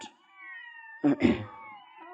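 A cat gives a short, close meow, preceded by a faint tonal sound and surrounded by quiet.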